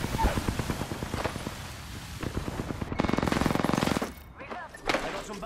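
Rapid automatic gunfire in Apex Legends rattles in fast, close bursts with shorter single shots between, joined by a brief voice line under the shooting.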